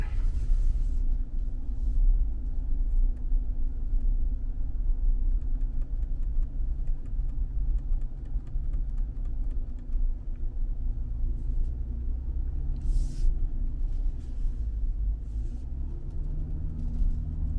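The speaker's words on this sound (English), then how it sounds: "Now we are picking up speed right here. I'm still in low gear too, so your speed is, as I said before, capped out." A Land Rover climbs a steep incline in low gear, its engine droning steadily as it picks up speed, with a constant low rumble close by throughout and no talking.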